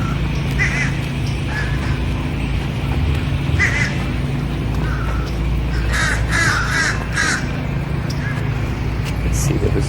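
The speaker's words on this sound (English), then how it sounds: "Those are crows, the black crows. You hear that?" Black crows caw outdoors, scattered bursts of harsh calls, a few close together, set against steady loud wind or traffic noise.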